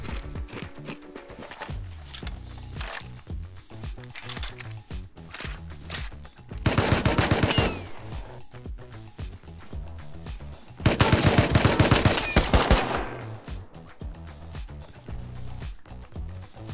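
Gunfire in the survival game Rust arrives as bursts of sharp shots, with two loud automatic volleys in the middle standing out above a steady run of quieter clicks and movement sounds. No one speaks.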